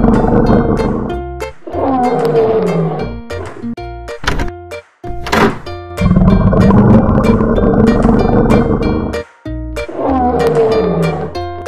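A toy wild-animal lion's roar from a children's wooden train and pool play set, rendered as a loud, sustained roaring call that repeats in several long bursts with brief pauses, close and clear with no talking.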